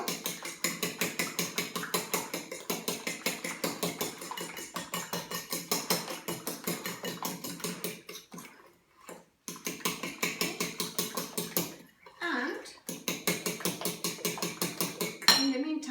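Eggs and sugar whisked in a bowl for Polish doughnut batter, a fast steady rhythmic clatter of the whisk against the bowl with two brief pauses, fairly close and without talk.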